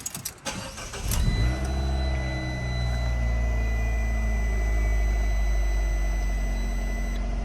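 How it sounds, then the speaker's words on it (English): A Fiat 500 car engine cranks with a few sharp clicks, then catches and settles into a steady, close, even idle hum, with no voices. "Let's start the car."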